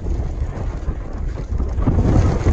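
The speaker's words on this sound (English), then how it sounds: "so pretty windy right now" Strong gusts buffet the microphone on a mountain trail, a loud, rumbling, uneven roar that swells and eases and builds again toward the end.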